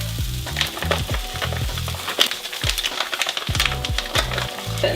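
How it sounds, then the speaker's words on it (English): Rice tipped into a hot pan for burrito bowls sizzles steadily while it is stirred and scraped, with woody knocks and crackles close by and no voices. "So at this point, I'm gonna add in"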